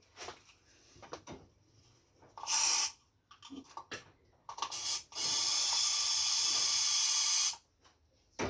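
Silicone is applied around a resin mold in short hissing spray bursts, the last one long and steady, with quiet handling noises in between.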